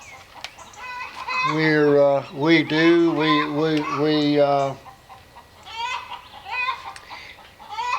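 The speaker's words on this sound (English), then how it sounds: "listen to the chickens arguing with me" Chickens clucking and squawking close by in a loud, drawn-out burst of rising and falling calls, followed by softer clucks, with a voice briefly heard.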